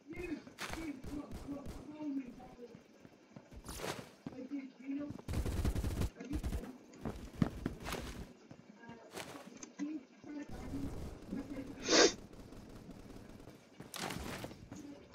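Gunfire in the Roblox game Phantom Forces comes as scattered bursts and single shots that break up a busy stretch of in-game sound, with one louder burst near the end.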